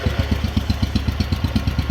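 A Wheel Horse 857 garden tractor engine, its carburetor needing adjustment, chugs in a rapid, even rhythm close by, a low pulsing beat that runs steadily without speech.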